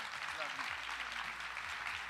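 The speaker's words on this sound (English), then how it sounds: "Give them a round of applause." An audience at a keynote event claps in a steady broadband patter while voices speak over it.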